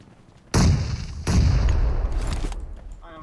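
Two grenade blasts in PUBG Mobile, a loud booming burst followed shortly by a second sustained explosion that rumbles and fades over a couple of seconds.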